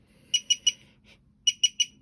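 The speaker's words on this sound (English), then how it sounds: "it will make a beeping sound letting me know that it is finished" Six short, high electronic beeps from a heat press signaling it is finished, in two groups of three, with a brief faint chirp between the groups, clear against a quiet background.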